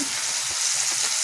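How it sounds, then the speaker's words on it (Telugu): Blended tomato chutney hitting a hot tempering in the pan, a loud, dense, continuous sizzle close up with no voices. "ఇప్పుడు మనం మిక్సీ పెట్టిన టమాటా చట్నీ అందులో వేసేసుకోవాలి"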